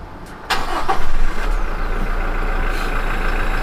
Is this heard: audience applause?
no